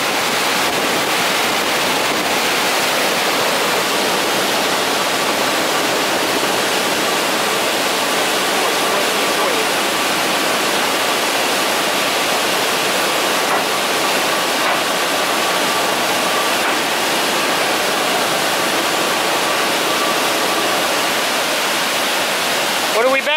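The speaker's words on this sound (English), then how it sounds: "Damn, that's a lot of water." A large volume of water rushes through an open gate at a small-scale hydropower plant, a constant loud roar that holds unbroken throughout.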